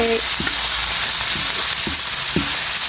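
Chopped onion and tomato frying in a pan as the base for bhindi masala, a loud continuous sizzle with several short scraping stirs spaced through it.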